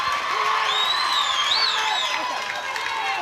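Ireland fans in a vocal stadium crowd cheer and whoop at a Scotland versus Ireland women's rugby union Six Nations match, a steady loud roar with rising shouts and whistles throughout.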